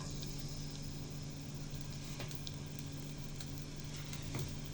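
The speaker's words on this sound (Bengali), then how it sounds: "পেঁয়াজ রসুনটা গোল্ডেন ব্রাউন কালার করে ভেজে নিব" Chopped garlic frying in hot oil in a pan for a cabbage dish: a faint, steady sizzling hiss runs without pause, with a few small crackles popping through.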